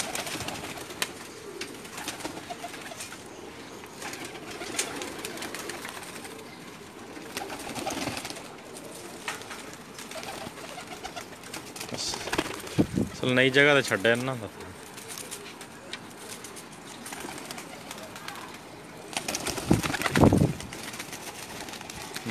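Lakha pigeons coo softly among a flock while someone talks over them almost throughout; a brief burst of wing flapping or calls stands out near the middle.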